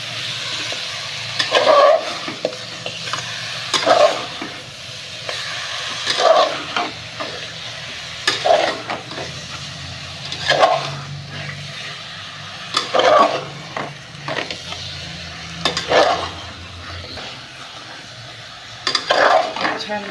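Chicken with masala frying in a pan, stirred with a utensil in a steady rhythm of scraping strokes every couple of seconds over a continuous close sizzle, with no talking.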